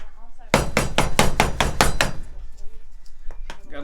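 Hands pat seasoning onto a raw pork tenderloin for smoking, giving about eight quick, firm slaps in an even rhythm that then stop, leaving a quiet room.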